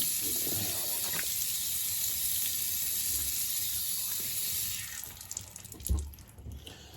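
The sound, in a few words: rinsing a sponge under running water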